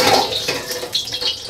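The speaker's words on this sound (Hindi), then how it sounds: "और तेल गर्म होने के बाद नॉर्मल वाटर जो होता है वो डाल देंगे।" Water poured into a deep wok of hot sesame oil, making a close, continuous splashing, hissing rush of liquid for about a second and a half with no talk.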